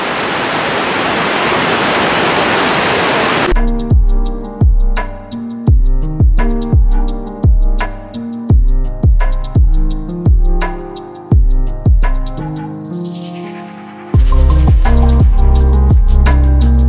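A waterfall on an Oregon hiking trail gives a loud, steady roar for a few seconds, then music with heavy rhythmic beats takes over for the rest.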